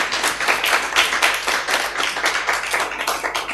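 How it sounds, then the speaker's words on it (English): An audience at an AI-for-health university symposium applauds students and trainees, a dense, steady wash of many hands clapping close by, sustained throughout with little talk. "And we need to give them a round of applause."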